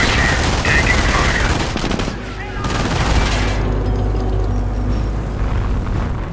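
Company of Heroes battle at Cherbourg: dense bursts of rifle and machine-gun fire with booming explosions crowd the mix, loud and continuous, while game voices call out faintly underneath.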